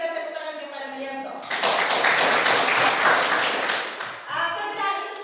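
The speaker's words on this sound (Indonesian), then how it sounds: "Kita berikan tepuk tangan kepada Melianto." A classroom gives a student a burst of applause. Many hands clap together for about three seconds in a bright, dense patter, with speech just before and after.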